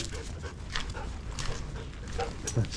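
A husky pants rapidly and lets out thin whimpers close to the microphone, with a voice faintly mixed in.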